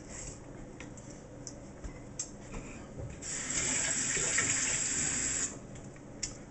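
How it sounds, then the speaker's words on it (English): Lukewarm water runs from a kitchen tap while bread dough is being made. A few faint drips and splashes lead into a steady, moderately loud stream lasting about two seconds, then it stops. "Lukewarm water."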